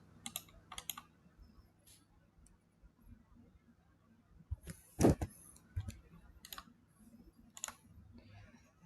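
Typing on a computer keyboard while entering a command, with sparse, quiet key clicks in small clusters and one louder tap.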